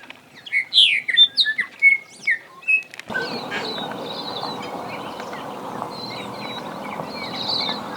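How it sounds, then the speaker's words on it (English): A small black and white bird gives a run of bright, separate chirps for about three seconds near Mt Taranaki's Dawson Falls. A steady rush of water or wind then takes over, with only faint chirps under it. "There's this little black and white bird right here."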